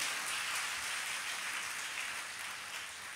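A church congregation at a Sunday service claps together in a dense, continuous rush of hands like heavy rain, fading slightly at the end, with no voices.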